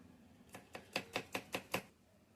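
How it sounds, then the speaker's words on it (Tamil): Six quick, evenly spaced knife chops strike a cutting board while garlic is chopped for egg chutney, crisp and close with a faint pause before and after. "அடுத்து பூண்டு கொஞ்சம் கட் பண்ணிக்குவோம்"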